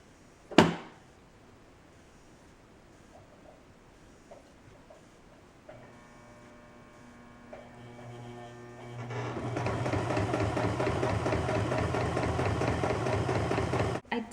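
A sewing machine stitching homemade boots: a sharp knock opens, a thin electric hum rises midway, then the motor breaks into a loud, steady whirring run that lasts to the end.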